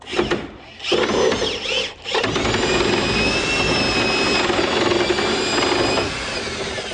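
A loud, high-pitched power drill whines steadily, starting with two short bursts and then running continuously as it bores up through a wall, close up.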